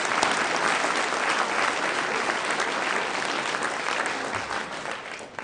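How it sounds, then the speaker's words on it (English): Audience at an awards ceremony clapping for Jimmy Muller, dense sustained applause from a sizable crowd, close and even throughout, tapering slightly toward the end with no speech over it. "Let's all clap for Jimmy."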